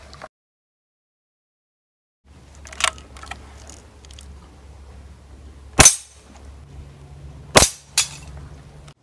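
Daisy Powerline 880 air rifle fired outdoors at a zombie target: three sharp, loud cracks spaced a couple of seconds apart, each standing alone over a low steady hum, with a fainter click or two between shots.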